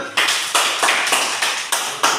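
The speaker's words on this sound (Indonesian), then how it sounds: "Oke, berikan tepuk tangan." A vocational high school class in a paint-surfacer lesson claps together in a quick rhythmic run of about seven unison beats, crisp and close.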